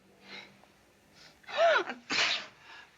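A voiced 'ah' rises into a sharp, explosive sneeze at close range, loud and breathy, with faint quiet sounds around it.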